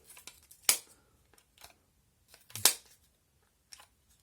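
Wireless earbud charging case for Proze TWS-02 earbuds pressed and snapped open, two sharp close plastic clicks amid softer handling rattles, with no talking.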